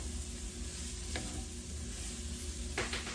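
A one-pot meal with tomato sauce is stirred while it heats, a constant loud sizzle and bubbling with two brief scraping strokes of the spoon against the pot.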